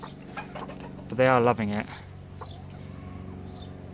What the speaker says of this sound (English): Hens will be hens